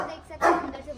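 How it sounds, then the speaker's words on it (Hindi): A dog barks in one short, loud burst near the midpoint, with voices talking around it outdoors. "जब तक हम यहाँ रहेंगे वैसे ही भौंकेगा"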